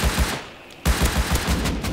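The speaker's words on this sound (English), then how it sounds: "Is that you shooting him?" Automatic gunfire in the Rust video game rattles out as fast, loud bursts of shots. A short gap splits it into two strings of rapid reports, each shot sharp and close.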